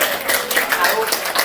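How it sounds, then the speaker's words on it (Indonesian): An indoor audience clapping at a company gathering in Bekasi, a dense steady patter of many hands close by, mixed with voices talking. "tepuk tangan dong"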